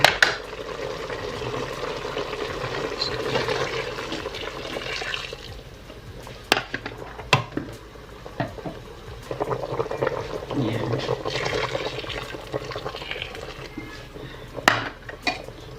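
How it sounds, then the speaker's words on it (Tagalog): Water pours and splashes into a pot of simmering pork bone stew, a sustained liquid rush with clinks of metal cookware and utensils in between, close by in a home kitchen. "Pwede tayo maglagay ng tubig."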